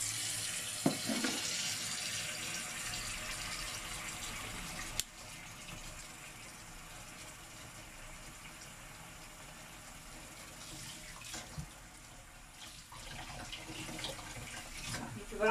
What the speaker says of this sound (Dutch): Ik ga voorlopen met wat warm water.